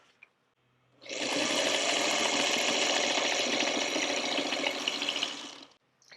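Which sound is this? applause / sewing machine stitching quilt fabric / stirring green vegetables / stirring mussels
sewing machine stitching quilt fabric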